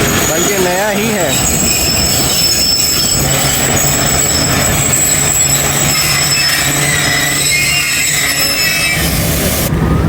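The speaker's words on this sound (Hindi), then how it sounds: "चले जी, हमारी ट्रेन का भी डिपार्चर हो रहा है।" Passenger train pulling out of a station, loud and close, with continuous rumbling wheels and piercing high metallic squeals from the rails throughout, plus brief faint voices.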